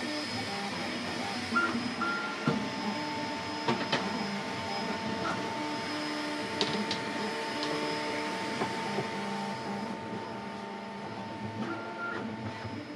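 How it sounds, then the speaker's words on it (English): A Creality K1 Max 3D printer running in the next room, giving a steady, moderately loud fan whir with faint tonal whines and occasional soft clicks and ticks, continuous throughout without speech. "you can hear the printer in the next room, even before the head starts moving around"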